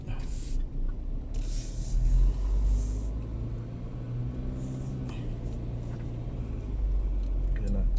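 Tricycle passing on a narrow one-way road, a motor rumble and engine drone building and fading close by over steady road noise, with horn-like tones and brief rattles.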